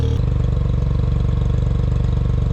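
An Autozam AZ-1 with a straight exhaust idles warm, a loud, steady low burble with an even, fast pulse throughout.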